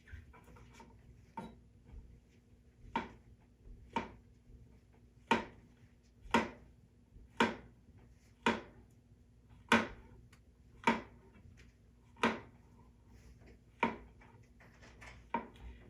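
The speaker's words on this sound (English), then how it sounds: "The first thing I usually do is cut off that stem so I can have a flat surface to cut them up into nice slices" A knife slices portobello mushrooms into even slices with crisp, close chopping strikes, about one per second, in a steady rhythm with quiet gaps between them and no voices.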